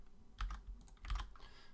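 Code is typed on a computer keyboard in two short clusters of close, crisp key clicks, quiet and alone with no talking.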